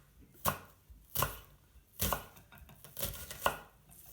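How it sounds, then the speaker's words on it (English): A knife chops an onion on a cutting board in about six crisp, separate strikes at an uneven, unhurried pace, close and clear, with no talking. "guide the knife, and then switching into the bridge naturally as I need to hold the onion in place"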